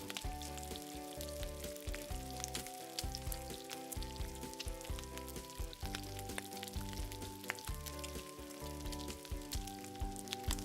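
Gulab jamun frying in hot oil, a dense continuous sizzle and bubbling crackle that stays steady and close throughout, with no voices.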